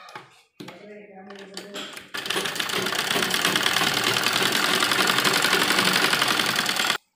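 A sewing machine runs a straight stitch along net lehenga blouse sleeves. It opens with a brief voice and a few short bursts, then settles into a loud, steady, continuous close-up whir for about five seconds before stopping.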